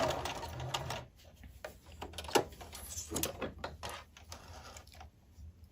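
A sewing machine stitches a cloth panel book in short, quiet bursts, with clicks and fabric rustling between runs of rapid needle chatter.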